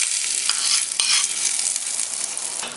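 Mustard seeds, urad dal and curry leaves sizzle in hot oil, a loud steady hiss with faint crackles, as tempering for a radish chutney. No one talks.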